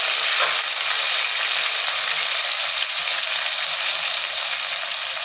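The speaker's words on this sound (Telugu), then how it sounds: "ఇందులో అల్లం వెల్లుల్లి పేస్ట్ వేసుకోండి." Ginger garlic paste sizzles and crackles steadily in hot oil for pumpkin sambar, a close, continuous fry with light stirring.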